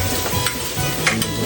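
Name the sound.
garlic sautéing in a pan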